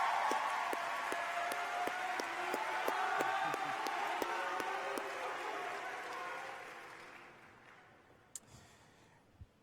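High school graduation crowd applauding teachers, a broad wash of clapping with cheers and a few sharp regular claps on top, gradually tapering off to scattered claps.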